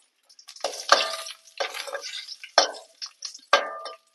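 Dried red and Kashmiri chillies frying in a little sesame oil, heard as intermittent crackling bursts with spatula scrapes between brief quiet gaps, close and clear, no voices.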